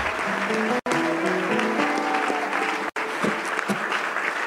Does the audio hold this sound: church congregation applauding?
yes